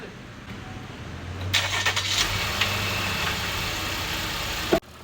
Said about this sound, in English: I'm gonna start the car